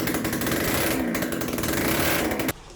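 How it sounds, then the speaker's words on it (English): A Yamaha Aerox scooter engine with its exhaust removed runs loud and raw, a harsh steady buzzing drone with slight revving fluctuations, close up, cutting off abruptly near the end. "It's running loud because the exhaust isn't on."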